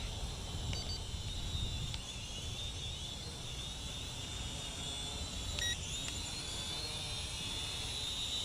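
Small Cheerwing CW4 RC quadcopter drone in flight, giving a steady high-pitched rotor whine with a low rumble throughout, holding at a constant level with no talk.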